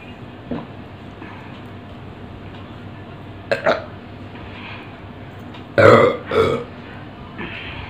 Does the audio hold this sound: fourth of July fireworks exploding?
no